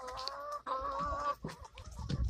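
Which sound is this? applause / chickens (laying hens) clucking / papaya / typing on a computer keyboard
chickens (laying hens) clucking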